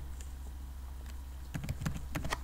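Someone types on a computer keyboard in a quiet room, a few scattered keystrokes at first, then a quick burst of clicking taps near the end, soft and close.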